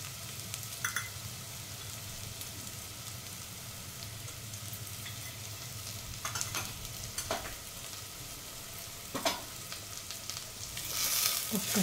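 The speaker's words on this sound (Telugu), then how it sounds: "చూడండి, మంచిగా ఫ్రై అవ్వాలి." Ginger garlic paste and turmeric sizzle steadily in a pan for a ridge gourd curry, with a spoon scraping and stirring now and then over the continuous frying hiss.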